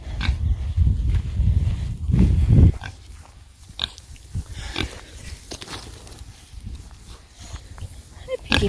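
A heavily pregnant mother pig grunts close by, a run of loud, rough grunts at first, then shorter, scattered snorts and snuffles.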